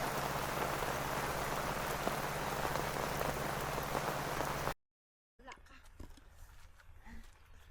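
Steady rain falls on a surface during a mountain outing in Atok, Benguet, a dense, even patter for most of the clip, then a brief dropout and quieter, sparser rain with scattered sounds.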